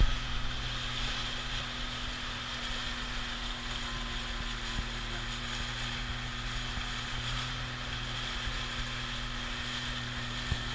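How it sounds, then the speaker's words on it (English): Motorboat cruising out from harbour to a fishing spot on the Red Sea in the early morning, a steady low engine drone with constant wind and water hiss, fairly faint and unbroken. "As we are cruising along from the harbor to the fishing spot"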